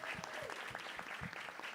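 Audience applause for a teacher at a Brazilian podcast-style event, dense and steady clapping that continues evenly for under two seconds at moderate distance.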